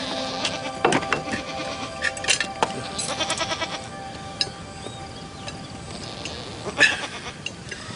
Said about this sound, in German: Also, Pat, ich hab Stevie gesagt, wir bringen die Ziegen heute Morgen hin.